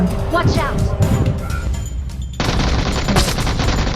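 Gunfire in PUBG Mobile comes as rapid bursts of automatic shots, loud and close, continuing throughout while players talk over it.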